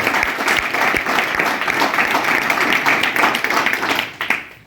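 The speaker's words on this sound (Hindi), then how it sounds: "आप लोगों के लिए जोरदार तालियां हैं।" Loud, dense applause from a company audience at a corporate address, many hands clapping steadily throughout before fading quickly at the end.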